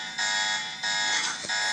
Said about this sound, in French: Batman a mis l'alarme dans son sandwich.